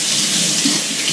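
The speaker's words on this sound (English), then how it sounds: "I'm just going to rinse a little bit on my fingers here." Water runs steadily from a kitchen sink tap as fingers are rinsed under it during pico de gallo prep, making a close, continuous splashing hiss with no talk.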